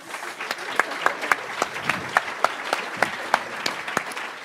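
An audience applauds a speaker at an investor pitch event: steady, dense clapping with a few sharper individual claps standing out at a fairly regular pace, moderately loud and close.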